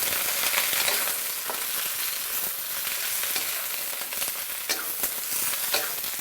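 Shredded cabbage hits a hot pan of golden-browned garlic, giving a steady, loud sizzle and fry with occasional crackles and stirring scrapes throughout, no voices.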